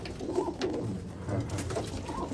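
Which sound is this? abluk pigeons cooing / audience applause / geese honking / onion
abluk pigeons cooing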